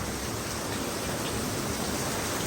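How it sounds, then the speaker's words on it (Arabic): Heavy rain falls in Marrakesh during a thunderstorm, a steady dense hiss of downpour with no distinct thunderclap evident. "أمطار الخير في هذه اللحظة قوية جدا، رعد وبرق"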